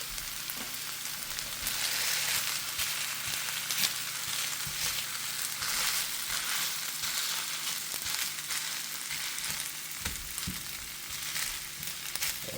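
Rice fries in a pan for jerk salmon fried rice, a steady, dense sizzle lasting throughout with occasional stirring scrapes and taps, close and continuous, no voices.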